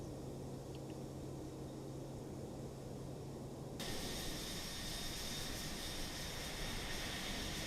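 Antonov An-225 engines droning in a flight simulator game, a constant broadband roar that steps up abruptly in brightness and level partway through, then holds steady.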